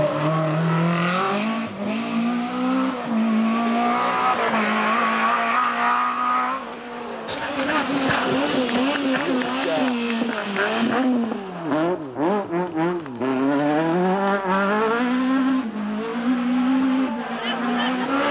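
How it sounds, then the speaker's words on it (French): Rally cars, including a Renault Mégane and a BMW, race past at the 1997 Rallye de Brive, their loud engines rising and falling through gear changes and sweeping revs. "Jacques Maraval sur la BMW numéro 2"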